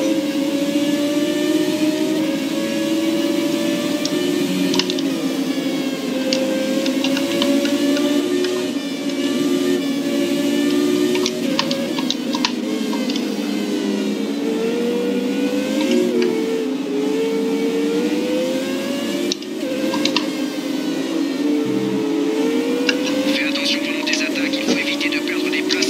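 A continuous, loud retro racing car engine drone in the video game F1 2017, with wavering pitch that rises and falls as it shifts gears, steady throughout with no talking.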